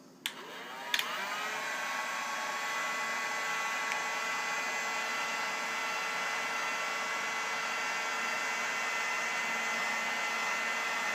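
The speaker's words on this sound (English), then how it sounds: "use the heat gun on it" A heat gun blows a constant, even roar while shrinking heat shrink tubing around a wire, opening with a couple of brief clicks as it starts up, then holding a steady whine to the end.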